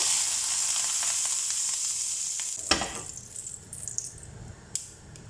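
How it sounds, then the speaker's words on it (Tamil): Butter sizzling on a hot grill pan before marinated prawns go on, a loud close frying hiss that fades partway through, with a few clinks and scrapes of utensils afterward. "மேரினேஷன் பண்ண இறால் எல்லாம் கிரில் பண்ணி எடுத்துக்கலாம். அதில் கொஞ்சமாக பட்டர் சேர்த்துக்கிறேன்."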